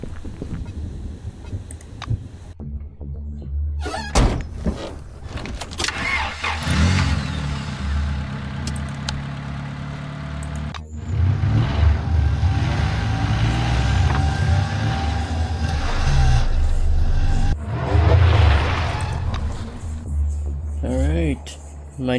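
In the video game Encased, a car engine cranks over and revs up amid game ambience, with someone talking over much of it.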